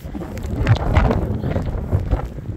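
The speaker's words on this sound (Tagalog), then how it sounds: "Yun nyo guys, mahangin." Strong, gusty wind outdoors in Sweden on a rainy New Year's Eve, a steady rushing roar of buffeting rising and falling against the microphone.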